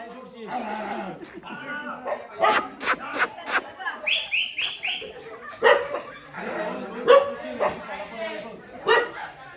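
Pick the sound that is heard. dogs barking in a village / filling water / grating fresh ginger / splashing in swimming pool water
dogs barking in a village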